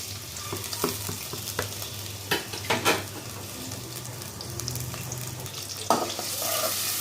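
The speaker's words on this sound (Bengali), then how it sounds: "পেঁয়াজটা একটু ভাজা ভাজা করে নেব।" Onions frying in oil for chicken biryani, a continuous close sizzle broken by a few scraping stirs of a spatula against the pan, with no voices.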